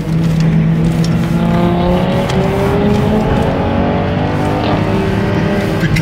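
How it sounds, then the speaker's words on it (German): A race car on the Nürburgring Nordschleife screams loudly and continuously, its engine note climbing and bouncing against the rev limiter with stuttering bursts over steady tire and wind roar. "Okay, das war ein Begrenzer."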